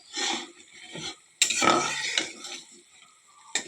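Masala spice paste being stir-fried in oil in a pan, with spatula scrapes and clinks against the metal over a light sizzle, in short bursts with pauses between strokes.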